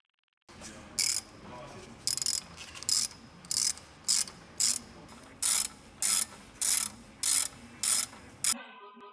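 A ratchet wrench tightening brake caliper screws on a VW Golf IV: about a dozen bursts of crisp, rapid clicking, each about half a second long, separated by short pauses, close and clear.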